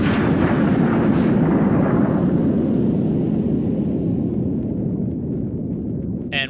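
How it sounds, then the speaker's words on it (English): The Pridwen airship exploding in the video game Fallout 4, a massive, sustained rumbling blast that roars loud and dense before slowly fading, heard alone without voices. "The Pridwin explosion sound was meant to be used."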